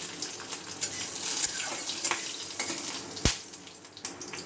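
Dried red chilli, whole cumin and a split green chilli frying in hot oil in a Bengali home kitchen, a steady crackling sizzle with sharp pops and a single clank of a utensil, fairly close and with no talk.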